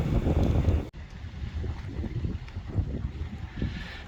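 Wind buffeting a microphone on a station platform at an Indian Pacific train driver-change stop, a loud gusty roar that drops abruptly then continues as softer, uneven blustering.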